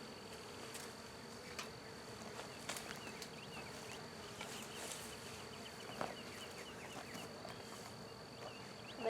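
A small swarm of roughly twenty to twenty-five bees buzzes faintly and continuously outdoors, with individual bees droning past closer at moments.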